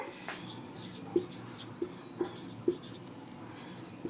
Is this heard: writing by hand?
yes